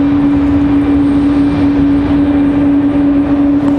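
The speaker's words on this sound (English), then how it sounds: "So that is that A220 you guys are hearing right there." Airbus A220 jet holding on its brakes with engines spooled up at Raleigh-Durham airport, a loud, constant close engine roar with a strong steady tonal hum and no change in level.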